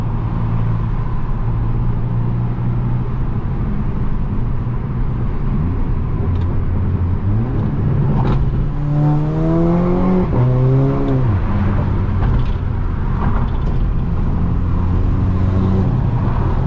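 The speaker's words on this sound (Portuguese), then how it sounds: "Ela tá com ronco, mano, que vocês não tá ligado." An Audi A5 on a road revs and accelerates nearby, a loud deep rumble rising through several climbing pitch sweeps midway before settling back into a steady drone.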